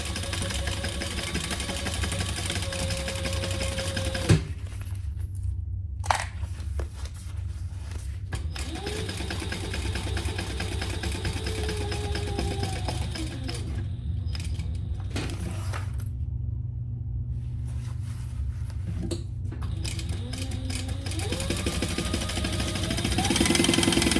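A sewing machine stitches cotton that has no interfacing, a steady mechanical hum running almost throughout with short pauses and a few clicks, close and continuous.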